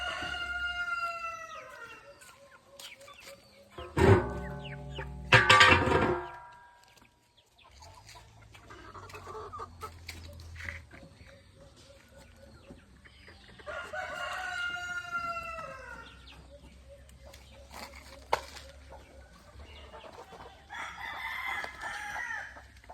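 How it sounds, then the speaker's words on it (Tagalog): Chickens on a farm with a rooster crowing loudly several times, its long calls standing out against steady clucking and background farmyard noise. "Mayroon tayo rito ngayon, mga manok."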